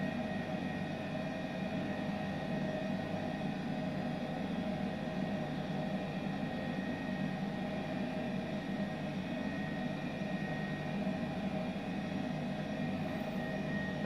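An H135 helicopter lifts off a helipad in Microsoft Flight Simulator 2020, a steady, droning turbine whine and rotor rumble that holds at an even loudness throughout.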